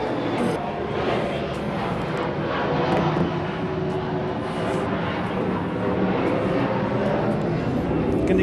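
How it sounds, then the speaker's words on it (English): A jet plane flies overhead at a campsite, a steady broad roar that holds level and slightly swells across the clip, loud and continuous with no clear pauses. "And that's a plane going overhead,"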